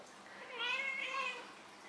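A pet cat gives one drawn-out meow with a rising then falling pitch, close and fairly quiet, alone in a calm room.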